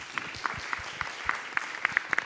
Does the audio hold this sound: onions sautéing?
no